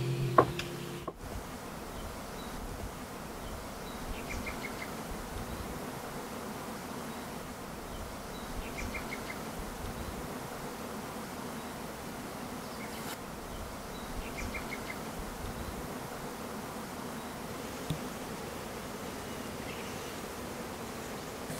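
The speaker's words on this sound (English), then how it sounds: "we're with a bee farmer, and he's working on his bees, working on his hives" Honey bees buzzing around a bee farmer's hives in Turkey, a dense, steady outdoor hum of many bees lasting throughout, fairly faint with no talking.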